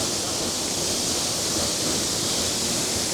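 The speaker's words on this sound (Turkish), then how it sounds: "Güzel bir şelale." Steady broadband rush of a waterfall in a city-centre park near Tbilisi fortress, a constant roar of falling water heard alone without any talk.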